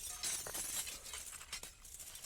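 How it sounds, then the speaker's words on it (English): Light bulbs and glass struck and shattered from a broken glass sample pack, layered into a dense, crashing burst of bright breaking and tinkling shards, loud and alone with no voices. "those sounds are actually from Ben Burns' Broken Glass sample pack. It's just like he's just like hitting light bulbs and whatnot"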